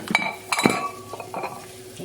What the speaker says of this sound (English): Now I'm going to add my veggies.